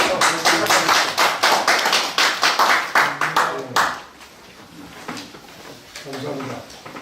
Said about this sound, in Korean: 큰 박수로 응원해드리면서 시작하겠습니다